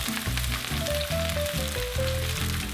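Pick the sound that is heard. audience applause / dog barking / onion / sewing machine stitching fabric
onion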